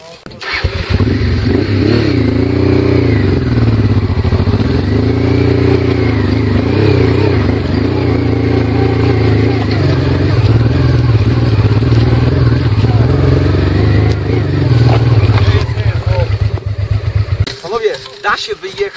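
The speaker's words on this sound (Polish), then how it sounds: "Ciężkie motocykle to nie podjadą." Heavy motorcycles on a gravel hill climb, engines revving and labouring loudly and close, with pitch rising and falling as they strain uphill, then cutting off near the end; people talk over the engine noise.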